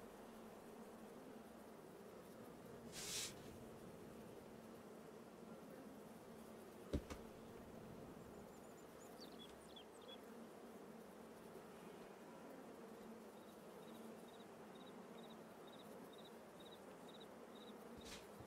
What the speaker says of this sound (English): So we've got lots of bees flying out the bloody things.